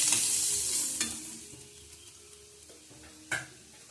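Fish frying in a pan gives a close, steady sizzle, loudest at the start and then settling, with a couple of sharp utensil clicks against the pan and no voices.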